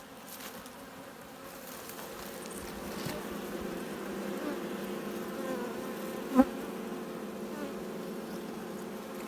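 Many bees buzz in a low, continuous drone close by at an open hive left in its natural state, swelling slightly over time, with one brief sharp knock partway through.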